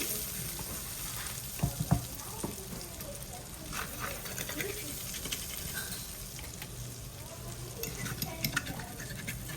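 Garlic, onion and other ingredients sizzle in olive oil in a skillet while being stirred, a continuous low crackle with scattered clinks and scrapes, close and moderately quiet, with no speech.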